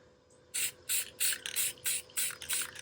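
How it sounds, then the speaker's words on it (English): Spray paint from an aerosol can is sprayed onto a lamp in quick light coats: a rapid series of about seven loud, crisp hissing bursts close by, starting after a quiet moment, with no speech. "it's okay to come right back and spray it again"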